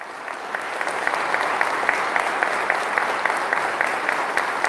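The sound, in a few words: audience applauding at a sermon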